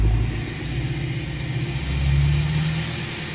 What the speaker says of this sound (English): we can see the elevated idle works